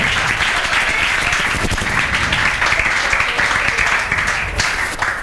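A classroom of students applauds steadily for several seconds, a thick continuous patter of many hands that tapers slightly at the end, with a faint voice underneath.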